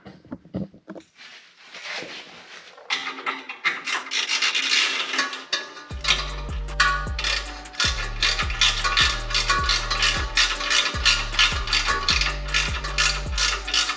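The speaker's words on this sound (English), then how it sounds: "now I just got to tighten up these last 4 bolts down here" A ratchet tightens the bolts on an exhaust clamp while an EVP exhaust is fitted to a Ranger XD 1500, producing loud, close, rapid clicking in repeated bursts after a few seconds of rubbing and handling noise.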